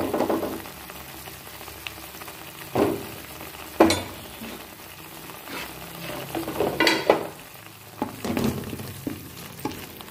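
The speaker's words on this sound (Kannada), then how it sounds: "ಇದು ಸ್ವಲ್ಪ ಫ್ರೈ ಆಗಲಿ." Chitranna ingredients fry in a pan with a steady low sizzle, punctuated by irregular spoon-stirring scrapes and knocks that come and go, close up.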